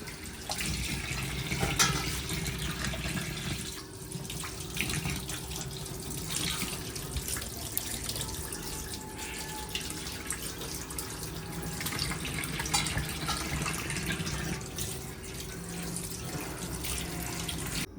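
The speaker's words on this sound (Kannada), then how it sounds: "ನೆಕ್ಸ್ಟ್ ಸ್ಟೆಪ್ ವಾಶ್ ಮಾಡ್ತಿರೋದು" Tap water running into a sink while crabs are washed for a Mangalore-style ghee roast, a steady, close splashing stream with irregular surges and clatter as the crabs are handled, with no talking.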